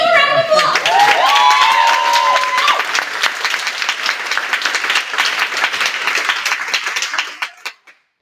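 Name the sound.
round of applause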